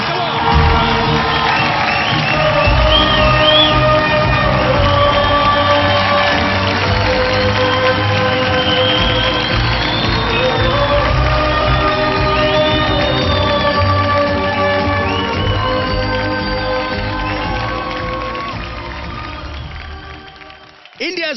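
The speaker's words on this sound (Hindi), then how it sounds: "जोरदार तालियां फॉर युवराज सिंह।" A television talent show audience, India's Got Talent, cheers and claps in a loud, dense crowd roar with whoops and shouts, sustained for about seventeen seconds before fading.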